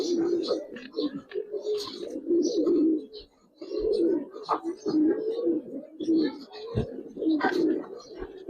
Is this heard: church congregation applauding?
no